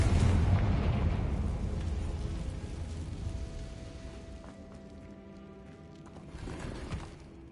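A Confringo fire spell goes off in a Hogwarts video game, a loud broad blast at the start that rumbles and fades over several seconds, leaving a quieter tonal hum with a small second swell near the end.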